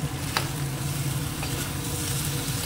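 Spices with Kashmiri red chili sizzle and fry steadily in a pan, a continuous close crackling hiss with soft stirring scrapes throughout.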